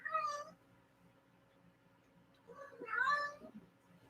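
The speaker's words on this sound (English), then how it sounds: "The kitty is in the window, looking outside and crying" A house cat sitting at a window and looking outside lets out two clear, plaintive meows a few seconds apart. It is close and fairly loud over a quiet room, and no one speaks.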